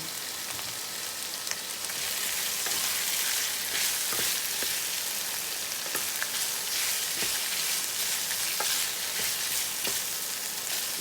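Spicy catfish with pickled bamboo shoots sizzles and crackles in a hot pan, a steady close frying hiss with occasional scrapes of stirring, no voices.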